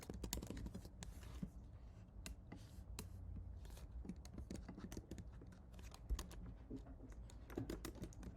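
Git commands being typed on a computer keyboard, a quiet, close run of irregular key clicks and taps with short pauses between bursts.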